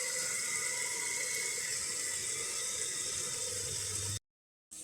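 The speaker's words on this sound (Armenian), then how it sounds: "և հիմա ոսպը լվանք" Lentils being rinsed in water for vegan tolma, a steady close rush of running tap water into a sink, continuous for about four seconds before a sudden cut to silence.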